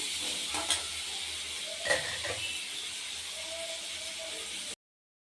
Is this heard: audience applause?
no